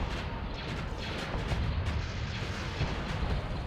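Heavy rumbling blasts of torpedo hits detonating in the space-combat game Starsector, a dense continuous roar of low booms and crashes lasting throughout at steady loudness.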